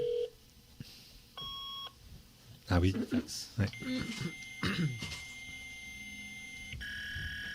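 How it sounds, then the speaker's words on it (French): Old dial-up modem connecting, a series of beeps and steady dial tones, then harsh screeching handshake noise, with short bursts of French conversation over the tones. "Le modem, ça."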